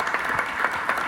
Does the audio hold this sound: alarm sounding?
no